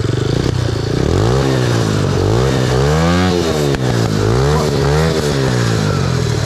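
A small engine with an exhaust fitted to a motorized shopping cart revs up and down in loud repeated surges, its raw exhaust note rising and falling close by without talk.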